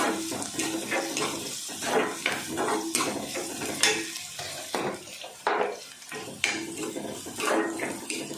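Curry leaves sautéing in a pan of oil for a restaurant-style egg gravy, with repeated clattering spoon-on-pan scrapes and knocks over a soft sizzle, close and irregular, no talking.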